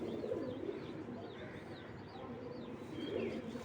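Racer pigeons at a breeder's loft coo in soft, repeated rolling calls, faint and somewhat distant, with a few light chirps from other birds scattered over them.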